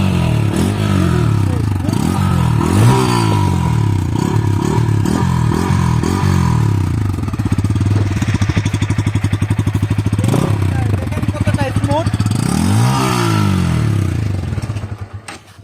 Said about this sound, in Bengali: আমরা এখন এই সুন্দরী মেশিনটাকে স্টার্ট করব এবং এর চেঁচামেচি সাউন্ড শুনবো